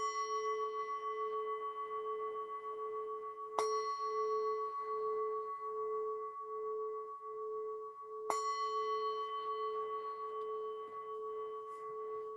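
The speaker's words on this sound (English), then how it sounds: "I'll ring the bell 3 times" A meditation bell is struck three times during a group practice session, each bright strike ringing out with a long, sustained shimmering decay, the tones overlapping in a quiet room.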